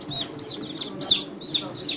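Newly hatched chicks in a homemade incubator give repeated high, thin chirps and peeps close by, several overlapping calls in an uneven rhythm over a faint background hum.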